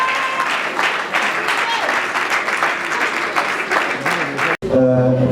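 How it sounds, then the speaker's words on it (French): An audience at an awards ceremony applauds an artist with loud, sustained clapping that breaks off abruptly near the end, followed by a brief low tonal passage. "Est-ce qu'on peut applaudir bien fort pour l'artiste?"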